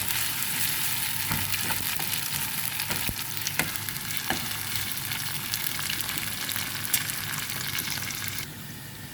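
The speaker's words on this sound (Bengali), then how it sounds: "আদা রসুন জিরা এটি সব কিছু ভাজা হয়ে গেছে" Ginger, garlic and cumin paste frying in hot oil for Kashmiri pulao, a dense continuous sizzle with scattered crackles and stirring scrapes, close and steady throughout with no talking.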